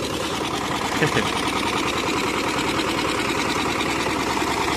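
A small engine on a machine used for planting potatoes runs continuously at high revs with a fast rattling, buzzing drone, loud and close throughout, while voices are partly audible over it.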